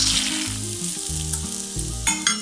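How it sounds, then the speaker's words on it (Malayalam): A cup of peanuts frying at medium heat in a pan after curry leaves have been fried, for a spicy fried groundnut starter: a loud, close, continuous sizzle with stirring scrapes and a brief clatter near the end, no talking. "ഇത് ഫ്രൈ ചെയ്യുമ്പോൾ മീഡിയം ഹീറ്റിലിട്ട് തന്നെ ഫ്രൈ ചെയ്തെടുക്കാം"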